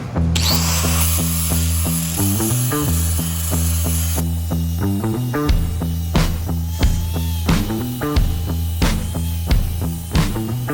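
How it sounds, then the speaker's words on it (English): Power grinding on the welds of a Jeep Cherokee winch bumper: a steady loud motor whine with a string of sharp rhythmic knocks and clatters, close up and with no voices. "We start grinding these welds down, finishing this thing, doing some body work to it"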